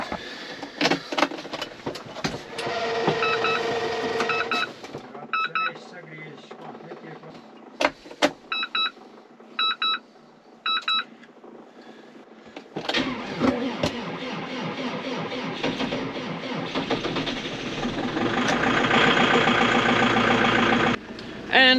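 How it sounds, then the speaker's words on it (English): A Steyr tractor engine cranks and starts in cold weather, with intermittent starter whirring and clicks before the engine catches and settles into a loud, steady idle. "Let's try start the tractor."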